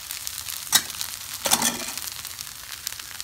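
Egg cooking in a pan pushed aside from quinoa fried rice, a close steady sizzle broken by two sharp stirring scrapes near the start, no talking.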